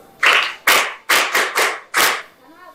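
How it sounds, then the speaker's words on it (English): Classmates clap for a student in a classroom: five or six loud, distinct slaps in an uneven rhythm, close and sharp, with a brief faint trailing sound after. "Clap for her."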